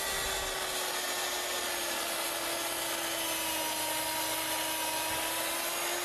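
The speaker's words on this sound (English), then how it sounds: "You're gonna cut this scrap away?" A power saw cutting through a scrap of wood board during a home renovation, a loud steady whining buzz that holds from start to finish with no talk.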